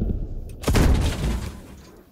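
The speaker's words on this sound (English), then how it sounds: "Firing another smoke round, and I'm firing right into his cabin." A tank gun in a video game fires a smoke round: one sharp, heavy blast that rings out and decays over a second or so, preceded by quieter ambient game noise.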